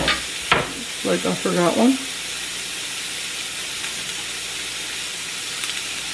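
Sausages frying in a pan for spaghetti, a steady broad hiss of sizzling fat running throughout, with a sharp clatter near the start and someone briefly speaking over it early on.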